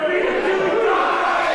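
A wrestling crowd at an IPW show in Des Moines roars and shouts steadily, a dense, loud wall of voices that holds without a break.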